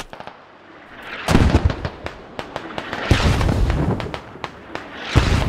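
Mortar fire in the military shooter Squad lands as a string of loud booming impacts and sharp cracks, with heavy blasts at intervals and scattered distant reports between them, no voices.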